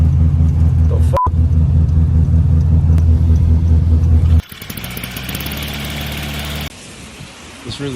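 A car engine running in limp mode, a loud, low idling rumble that cuts out abruptly, followed by quieter, rougher engine and road noise.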